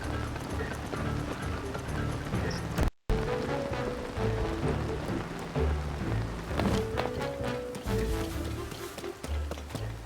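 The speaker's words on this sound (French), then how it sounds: "Surtout que il pleut, pas très pratique." Steady rain falls in The Legend of Zelda: Tears of the Kingdom, a constant patter over game music, with hoofbeats and running steps layered in and a brief cut of silence partway through.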